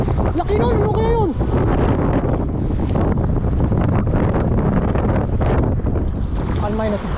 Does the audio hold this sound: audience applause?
no